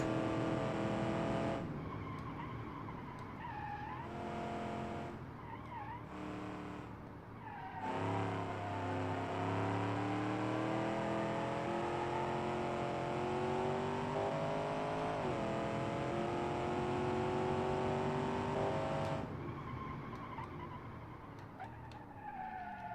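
A car in BeamNG.drive brakes hard, its tires screeching in a long, loud, continuous skid over a straining engine drone that rises and falls before the noise cuts off.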